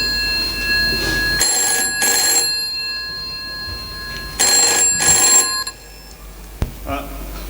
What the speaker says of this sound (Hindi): तभी मेरे फ़ोन की घंटी बजी।